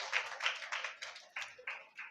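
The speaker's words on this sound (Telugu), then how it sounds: "చప్పట్లు కొట్టి దేవునికి స్తోత్రాలు చెల్లించుతాం" A church congregation claps hands at an anniversary service, about eight sharp, evenly spaced bursts of clapping in a steady rhythm, moderately close with a light room echo.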